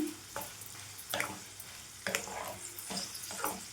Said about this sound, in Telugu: ఇప్పుడు ఈ మొత్తం కూడా ఈ పప్పులు ఇవన్నీ మంచిగా వేగాలండి మనకి ఫ్లేమ్ మీడియంలో ఉంచేసుకొని ఇవి మంచిగా వేయించుకోవాలి